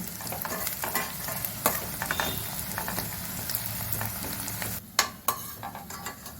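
Bitter gourd pieces frying in oil until crispy, a dense, loud, close sizzle with irregular spatula scrapes and clatters, briefly dropping toward the end before a few sharper knocks.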